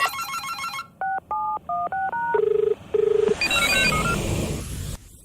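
A phone call being placed: a burst of touch-tone dialing beeps, then separate tones and two short ringing trills, followed by rising electronic call-connection sounds.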